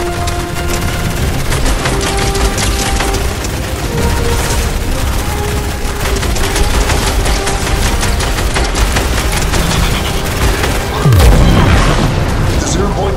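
Continuous battle din from Fortnite: dense, loud gunfire and explosions blend into a steady roar, with a deep boom standing out near the end.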